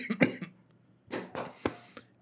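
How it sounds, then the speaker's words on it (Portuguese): A person coughs repeatedly and close to the microphone, with a cluster of sharp bursts at first, then a quieter gap, then three more spaced, rasping coughs that fade at the end. "Tô com uma tosse estranha."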